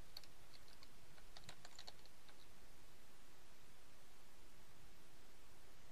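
Quick bursts of typing on a computer keyboard as a plugin name is entered into a WordPress search field, soft rapid key clicks over faint background hiss, then the typing stops and only quiet noise remains.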